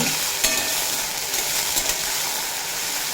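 Small cut potatoes frying in oil on medium flame for a green bean and potato curry, a loud, continuous sizzle with a few spatula scrapes and stirring knocks, close by.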